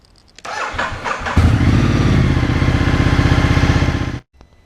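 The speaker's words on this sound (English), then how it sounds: "we can then start the bike" A Ducati Multistrada motorcycle engine cranks briefly, catches and revs into a loud, steady, close idle for a few seconds, then cuts off abruptly.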